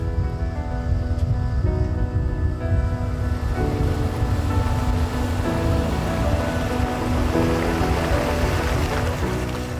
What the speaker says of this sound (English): spray the van off